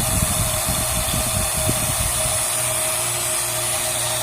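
A vacuum pump runs steadily close by, evacuating a car's A/C lines before an R-134a charge. It makes an even, unbroken mechanical hum with a fixed tone and a rougher low rumble throughout.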